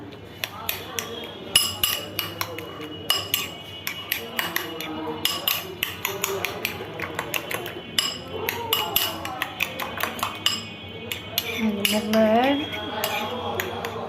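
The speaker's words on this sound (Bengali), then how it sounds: "চামচের সাহায্যে ডিমটা ফেটবো" A spoon beats egg in a bowl while preparing Mughlai paratha, giving rapid irregular clinks and taps against the bowl throughout, close and fairly loud, with a voice talking at times over the clatter.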